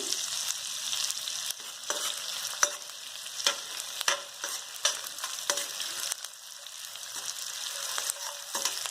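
Edible gum frying in ghee, a steady bright sizzle punctuated by frequent sharp popping and stirring clicks as the pieces puff up, close and fairly loud with no speech.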